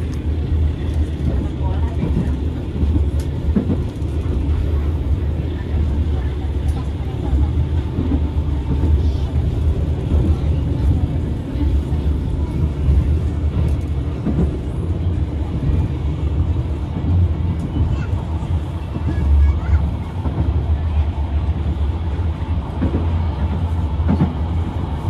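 Passenger train traveling from Jogja to Malang via Blitar, with a loud continuous rumble and faint clickety-clack of the carriage on the rails throughout, and people talking over the interior noise.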